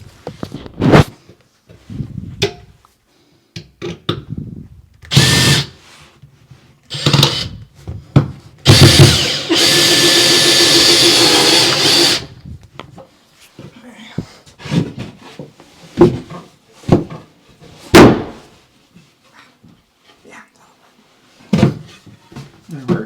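Power drill driving into wood inside a cramped coat closet: a few short whirring bursts build to one longer sustained run, heard close, with scattered knocks, handling clatter and a voice between.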